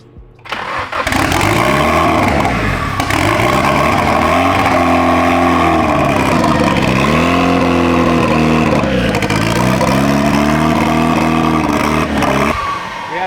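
An SR20 engine in a Nissan 240SX catches and runs after its first start, sputtering to life then holding a loud, rough idle with rising and falling revs for several seconds before cutting off.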